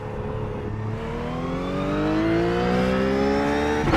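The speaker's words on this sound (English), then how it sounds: "With the engine noise." A Ruf GT3 race car engine revs in iRacing at Monza, a loud continuous whine with rising harmonics as it climbs steadily through the rpm, alone without talk.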